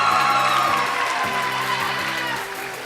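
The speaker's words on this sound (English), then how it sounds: "let's give another round of applause for Emily Fields of Washington Catholic High" An audience at a student convention session applauds and cheers, a sustained wash of clapping and crowd noise that fades slightly toward the end, with low tonal sounds underneath.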